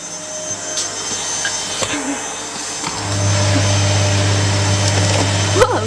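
A front-loading washing machine spins up with the door open, giving a steady whirring drone that grows louder and fuller about halfway through, with a few faint knocks and rattles over it.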